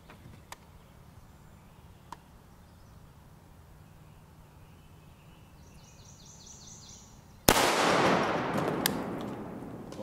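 Palmetto State Armory GF3 rifle, fired without a magazine at a Militech ballistic helmet: after a long quiet stretch, a single loud, sharp shot cracks out, followed by a sustained rumbling wash of noise.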